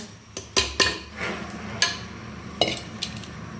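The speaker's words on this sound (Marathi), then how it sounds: "आता हे घेऊन ढवळत राहायचं आणि नॉनस्टॉप ढवळत राहायचं" A spoon scrapes and clinks against a thick-bottomed pot while a fasting-snack mixture is stirred over the heat, with several sharp metallic knocks scattered among softer scraping strokes.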